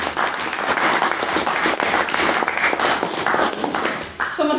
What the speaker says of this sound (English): can we give her a round of applause to congratulate